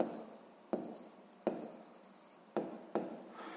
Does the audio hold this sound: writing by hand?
yes